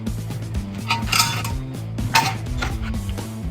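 A metal canteen cup is handled in a shaving setup, giving repeated close clinks and knocks of metal with a steady ringing hum underneath; no one speaks.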